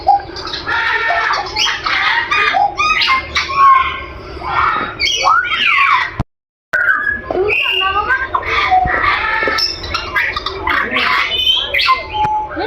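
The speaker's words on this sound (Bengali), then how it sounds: "পাখিটা যে কিচির মিচির করে সেগুলো আমার অনেক ভালো লাগে।" Birds at a zoo chirping, squawking and whistling in busy overlapping calls, close and fairly loud throughout, broken by a brief silent gap midway.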